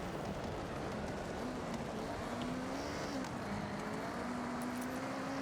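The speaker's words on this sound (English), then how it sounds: "Where I'm downshifting when I shouldn't be downshifting." A car engine in the Forza Horizon 6 racing game, a continuous droning tone that shifts pitch as the car downshifts, steady and fairly loud over road noise.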